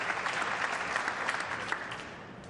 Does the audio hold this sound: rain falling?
no